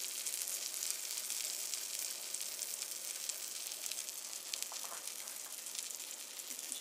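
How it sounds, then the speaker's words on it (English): Egg-dipped eggplant slices frying in a pan, a steady close sizzle with dense crackling spatter running throughout, no voices. "Just dip them in scrambled egg and put them in the pan."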